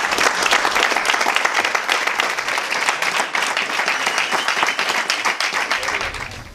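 Sustained, loud audience applause fills a seminar hall on a Saturday morning, dense steady clapping from a large crowd holding at full strength and easing only slightly near the end.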